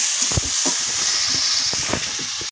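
Ginger and cumin paste frying in a pan, a steady close hiss of oil with faint crackles, no voices.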